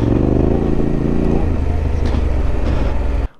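A Yamaha Tenere 700 motorcycle ridden along an off-road trail, its engine droning loud and close, with the pitch dropping partway through as revs shift, some rattling clatter over it, and the sound cutting off abruptly at the end.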